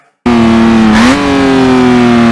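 An old Cooper Formula 1 car in a racing simulator game cuts in abruptly with a loud, buzzing engine drone, briefly climbing in pitch as it revs, then holding a steady high-volume tone.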